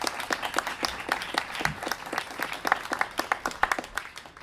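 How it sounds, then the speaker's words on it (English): A small audience at a Livermore candidates forum applauds: a steady, moderately loud patter of many hands clapping for several seconds, with a few voices faintly mixed in. "A round of applause."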